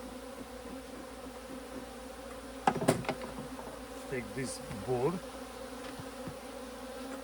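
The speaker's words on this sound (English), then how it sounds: "Now we need to drive the bees down." Honeybees buzzing steadily around a hive during queen rearing, a low continuous drone at moderate level, with someone speaking briefly and some handling knocks partway through.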